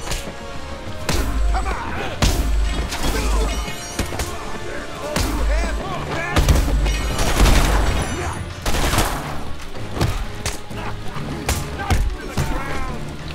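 Henchmen fire guns in the video game Batman: Arkham Asylum: loud, repeated bursts of gunfire and impact thwacks in rapid, irregular succession, mixed with game sounds and a voice talking over the action.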